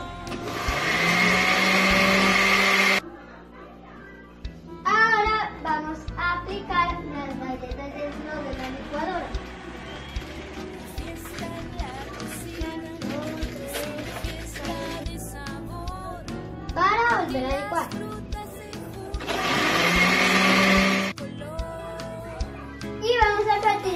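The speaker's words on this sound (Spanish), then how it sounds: "Ahora lo vamos a licuar." A kitchen blender whirring loud and steady as it blends fruit, running for a few seconds at the start and again near the end, while a child and an adult chatter and sing in the middle stretch.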